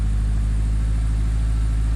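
A Honda engine idles a little high, a steady close drone with a constant low throb and no breaks, running alone with no talk.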